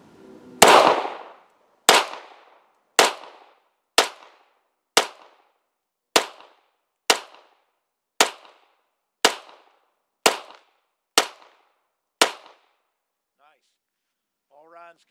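Eleven sharp, loud gunshots from a Sig P226R pistol fired at a target 6.5 yards away, spaced about a second apart in a steady rhythm, each with a short ringing decay, then silence.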